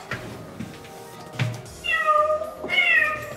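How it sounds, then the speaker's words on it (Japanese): A toy cat gives two clear, fairly close meows after a button press, each one a rising, tonal call. Some light handling noise comes before them. "猫が鳴きます。"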